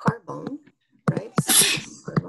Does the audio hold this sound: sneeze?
yes